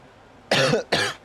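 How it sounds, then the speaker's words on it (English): Two quick, harsh coughs close to the microphone, one after the other. "Sorry if I cough every now and then."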